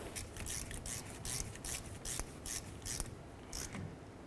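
A ratchet wrench snugs the rear ABS sensor bolt on a 1998-2011 Ford Ranger, giving quick bursts of close metallic clicking in a regular back-and-forth rhythm, soft overall with no voices.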